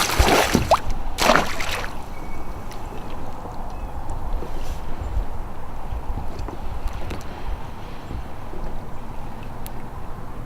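A fishing kayak tipping past about 45 degrees and rolling over, with loud splashing and sloshing bursts near the start, then steady water and wind noise continuing.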